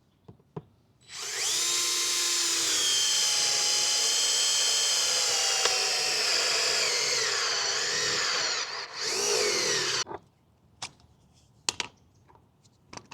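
A cordless drill spins an HSS four-flute spiral step bit through metal, giving one loud, sustained high-pitched whine of about nine seconds that dips briefly near the end and then stops, followed by a few faint clicks.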